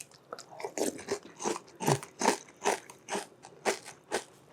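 Crisp, repeated crunching of sugared cereal in milk being chewed, about a dozen sharp bites in a steady rhythm, close and clear with no talking.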